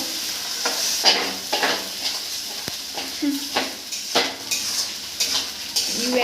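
A spoon scrapes and stirs a ginger, onion, garlic, green chilli and tomato paste in a pot for biryani, giving repeated rhythmic clanks against the metal with a soft sizzle underneath.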